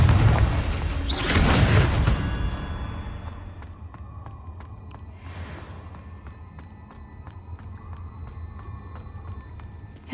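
A Confringo fire spell from Hogwarts Legacy bursts loudly near the start with a booming blast, then rumbles and fades into a low, steady cave ambience with scattered faint clicks.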